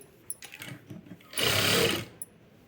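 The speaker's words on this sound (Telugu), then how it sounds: "లైనింగ్ మీద కుట్టు పడేటట్టు స్టిచ్ వేసేసుకోండి" A sewing machine stitching along a blouse lining, with a few soft fabric handling sounds and then one short close burst of fast motor-driven stitching before it stops.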